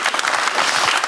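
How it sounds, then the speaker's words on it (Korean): Applause from an audience at a live digital talk event where South Korea's president meets small business owners, a brief steady burst of dense clapping filling the whole moment. "박수로 청해 볼까요?"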